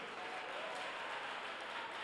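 A congregation clapping hands during a church prayer day service, heard as a dense, steady wash of applause at low level with no clear individual claps standing out.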